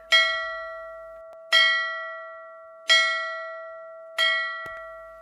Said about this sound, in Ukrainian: корабельний дзвоник.